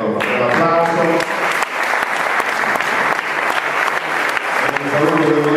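An audience at an award ceremony for the Premio Sele D'Oro Mezzogiorno claps loudly and steadily throughout, with the sustained applause running under a speaking voice at the start and end.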